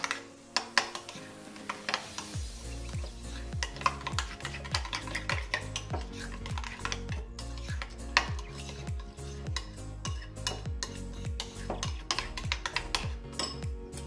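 Chicken tenders being tossed with salt and pepper in a bowl, a busy run of rhythmic knocking and scraping strokes from a utensil against the container, close and fairly quiet, with no talking.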